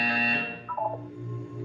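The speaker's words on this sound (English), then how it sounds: "You will hear a buzzer." An electronic buzzer from the video game Portal 2 sounds as a steady, loud multi-tone drone, then breaks into a brief wavering blip before a lower hum continues, with no voices.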